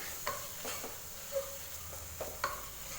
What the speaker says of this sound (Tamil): மசாலா பொடியில் லோ ஃப்ளேம்லேயே போயிடுச்சு பார்த்திங்கன்னா 1 நிமிஷம் நல்லா மிக்ஸ் பண்ணி வதக்கி விட்டாச்சு